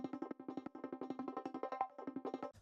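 A chopped synth sample, warped to thirty-second notes, stutters in a fast, skippy run of plucky pulses about every tenth of a second. It is faint and plays alone, with no voices.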